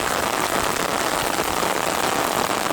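Heavy rain pours down steadily on surfaces outdoors during a fishing trip, a dense, loud, unbroken hiss of drops throughout with no voices.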